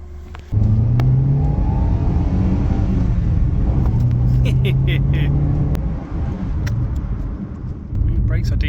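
A small Fiat Seicento car engine hums and revs on a test drive, with gear shifts and rising pitch, and brief clicks and rattles on top.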